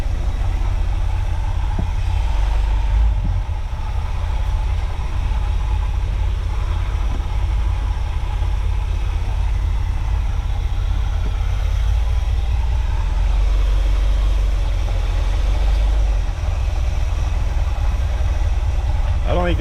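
A 1979 GMC Vandura G25 van engine idles steadily close by for the whole stretch, a low rumbling constant drone with faint rattles over it.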